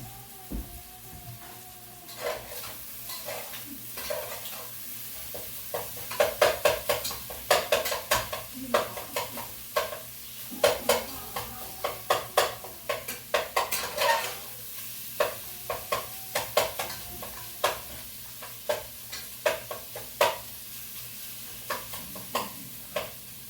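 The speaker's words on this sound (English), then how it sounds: "Check the sausage again while it's cooking." Sausage crumbles browning in a pan on the stove for sausage gravy, with a steady close sizzle broken by frequent scraping and stirring clatter from a utensil against the pan.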